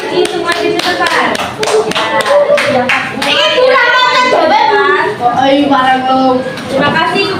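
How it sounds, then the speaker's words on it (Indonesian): Pupils in a classroom give group 6 a round of rhythmic clapping, quick sharp claps close by at first, then voices chanting and talking loudly over and after the claps. "Sekarang beri tepuk tangan dulu untuk kelompok 6 karena sudah bersih semua diselesaikan"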